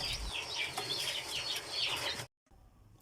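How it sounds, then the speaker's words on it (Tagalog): Rhode Island, Shamo cross and upgraded native chickens give faint chirping clucks and calls, a few quiet bursts over soft background noise before a brief silence. "merong Rhode Island at saka meron din pong mga Shamo crosses at saka upgraded native chicken."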